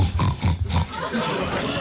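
A voice imitates a pig being slaughtered, letting out loud, strained grunting shrieks in a few rapid bursts that trail into a rough, drawn-out squeal.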